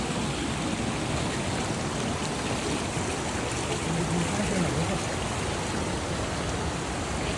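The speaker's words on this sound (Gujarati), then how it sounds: "મસ્ત પાણી જઈ રહ્યું છે," Steady broadband rush of a waterfall, water pouring continuously at moderate loudness with no voices, an even unbroken wash of flowing water throughout.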